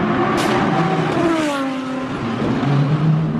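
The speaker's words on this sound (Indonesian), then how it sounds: "keluarlah mobil Lamborghini" Toy Lamborghini car giving off a continuous electronic engine sound with rising and falling revving tones, fairly loud and close.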